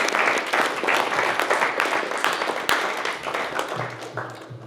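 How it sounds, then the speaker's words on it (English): Applause from an audience at a training event, a full burst of clapping that gradually fades, with a brief voice near the end. "We'll do applause first and make questions."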